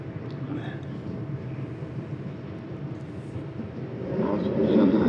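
Low, steady rumble of a CPTM Line 11-Coral commuter train in São Paulo rolling slowly past through a construction zone, swelling louder toward the end, with faint voices in the background.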